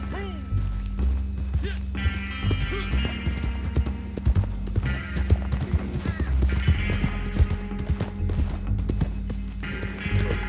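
A horse ridden along a railway track in Red Dead Redemption 2 clip-clops in a steady, close rhythm of hoofbeats, with a brief snort or whinny and faint background sounds.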